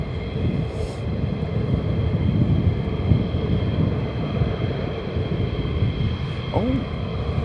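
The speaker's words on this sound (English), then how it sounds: "F-15s making their way out." F-15 Strike Eagle jets taxiing out at RAF Lakenheath give a continuous low roar with a steady high whine, a close and fairly loud engine drone that persists throughout.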